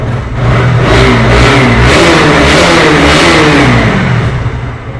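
A used 2024 sports motorcycle engine revs steadily at close range, a loud continuous mechanical drone with rising and falling revs that holds for several seconds, with no talking over it.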